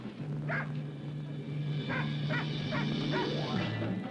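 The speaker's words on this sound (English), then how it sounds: "A constant barking goads the snake, keeps it from retreating under the log." A pointer dog barks and yips in short, repeated bursts while confronting a rattlesnake by a log outdoors, heard over a steady low hum.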